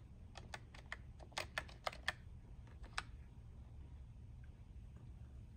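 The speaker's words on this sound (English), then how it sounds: "Okay, I'm gonna use the keyboard instead." Typing on a computer keyboard during a software install for an arcade cabinet build, a quiet run of distinct key clicks in an irregular rhythm with a few louder presses, then a stray keystroke or two in near silence.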